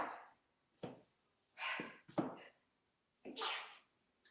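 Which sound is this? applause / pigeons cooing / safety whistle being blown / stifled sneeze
stifled sneeze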